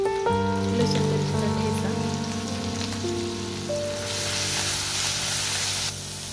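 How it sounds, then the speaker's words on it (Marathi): Mustard seeds, cumin and finely chopped garlic sizzle and crackle steadily in hot oil in a pan, with tonal background sounds fading out partway through. "तेल टाकलं, त्यात टाकलं मोहरी, जिरे आणि बारीक करून घेतलं लसूण."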